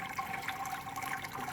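Sparge water pouring steadily during a home beer brew day, a continuous splashing rush of liquid at moderate loudness with no breaks.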